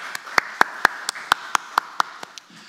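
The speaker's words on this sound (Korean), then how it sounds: "하나님께 박수로 영광 돌리겠습니다." A church congregation claps in praise during a Sunday morning worship service, with about ten sharp, evenly spaced claps ringing out in a steady rhythm that tapers off at the end.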